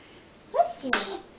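A baby sneezes once, close by and soft, with a brief breathy vocal sound just before it in an otherwise quiet room.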